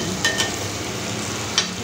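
Whole eggs with slits cut in them fry in a masala in a pan, a steady sizzle running throughout with a few soft scrapes and clinks as they are turned.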